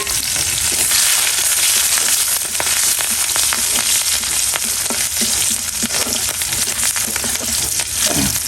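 Cumin, black cumin, chopped garlic, onion and green chili frying in hot oil in a wok, a loud, dense, continuous sizzle with crackles and stirring scrapes and no voices.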